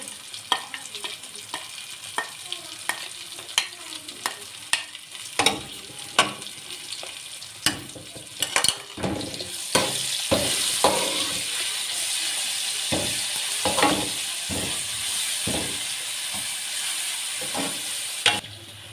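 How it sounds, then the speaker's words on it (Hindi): Steady sizzling of garlic and ginger frying in a pan with repeated sharp stirring scrapes and clinks, growing louder and denser partway through; no voices. "लहसुन अदरक को मैंने ब्राउन कर लिया।"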